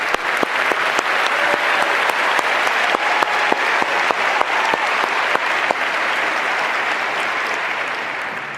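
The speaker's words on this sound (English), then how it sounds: "So let's give them a round of applause." A large conference audience at Adobe MAX 2015 applauds the Adobe teams, a dense, continuous roar of clapping with scattered sharper claps that tapers slightly toward the end.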